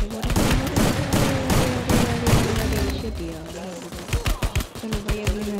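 Rapid bursts of automatic gunfire from an M104 gun in a mobile battle-royale video game, dense and continuous for the first three seconds, then breaking into sharper separate shots over steady game background sound.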